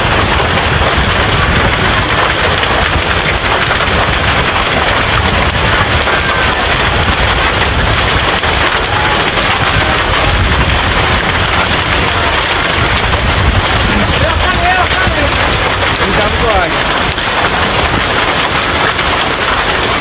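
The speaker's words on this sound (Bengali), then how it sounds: "হঠাৎ করে আজকে এখন শিলাবৃষ্টি চলে আসছে দেখেন কত শিলাবৃষ্টি" Hail pelts a road in Sylhet during a sudden hailstorm, a loud, dense, unbroken roar of pattering impacts that holds steady throughout.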